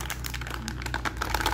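Plastic packaging crinkles and crumples steadily as a package of circuit parts, heat shrink, wire and probes, is torn open up close, with no talking.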